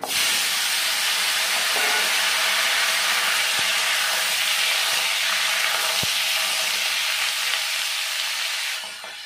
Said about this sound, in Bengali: আমি এবার দিয়ে দেবো কেটে রাখা ওলকপি আর আলু।